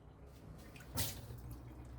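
A single water drop falls from a small leak in a water-filled container, one soft, close splash standing out against a quiet background.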